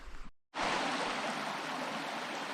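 A stream flows at a water crossing on a nature preserve trail in the Meduxnekeag Valley, a loud, continuous rushing wash of water that starts abruptly after a brief cut.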